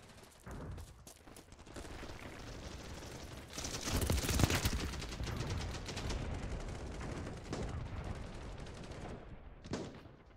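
Gunfire in the first-person shooter BattleBit Remastered, a dense stretch of crackling shots and impacts at moderate level, building toward the middle and tapering, with no talk.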